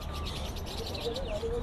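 Parrots chirp in short, thin, rising calls against a steady low background rumble. The calls come in a brief cluster near the end and stay fairly faint.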